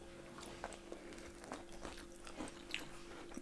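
Crunchy choux pastry cream puff filled with cream and dusted with powdered sugar being bitten and chewed up close: a series of soft, scattered crunches and clicks, quiet over a low steady hum, with no talking.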